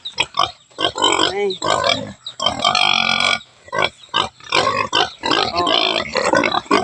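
A live pig offered for sale at 200 per kilo grunts and squeals loudly and close up in repeated bursts with short gaps, some of them squeal-like, while someone talks over it.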